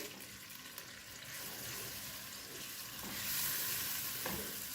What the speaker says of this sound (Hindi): इस तरीके से इसको हम फ्राई करते हैं ताकि इसका कच्चापन दूर हो सके।